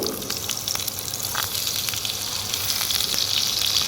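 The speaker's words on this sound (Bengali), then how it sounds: "প্রথমেই আমি আলুটাকে একটু ভেজে নেব" Potatoes frying in mustard oil in a pan, a steady close sizzle and crackle that holds constant and swells slightly toward the end, with no talk.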